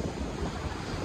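Surf washing ashore at Carmel beach, a white-sand beach on the cold Monterey coast, gives a steady broadband wash with wind buffeting the microphone and no voices.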